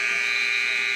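A steady electronic buzzer sounds at a high school wrestling match between Moses Lake and Eastmont, ending the second round; the tone is continuous and loud, holding unbroken across the whole moment with no talk over it.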